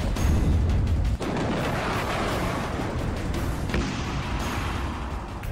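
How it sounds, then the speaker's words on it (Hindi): War footage with artillery fire, a rocket barrage and explosions: a dense, loud roar of blasts and rumbling booms with a sharp break near one second. "रॉकेट की बौछार"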